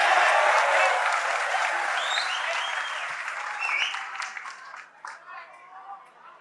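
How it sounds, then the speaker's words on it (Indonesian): An audience breaks into loud, dense applause that starts at full strength, then gradually thins into scattered claps as it dies away. "Oke, tepuk tangan."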